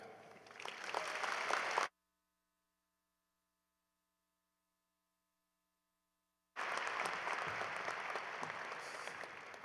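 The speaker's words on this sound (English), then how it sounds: "Let's give Stan another round of applause, please" A commencement audience gives a speaker named Stan a round of applause; two dense bursts of clapping are separated by several seconds of near-silent electrical hum.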